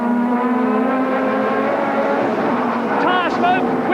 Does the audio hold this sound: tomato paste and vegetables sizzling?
no